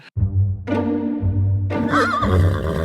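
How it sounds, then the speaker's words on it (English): A horse neighs loudly and close, a whinny with rising and falling pitch that runs nearly three seconds, with a low rumble underneath and no talking. "What are you doing with that horse?"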